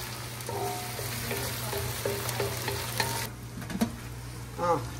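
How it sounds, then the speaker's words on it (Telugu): Onions with green chillies and curry leaves frying in a pan for a gongura mutton dish, a steady soft sizzle under repeated stirring scrapes, close and fairly quiet. "సో ఇప్పుడు ఆనియన్స్ వేసేసాను. సో మనం వీటిని బాగా కలబెట్టాలి, లేకపోతే మాడిపోతాయి."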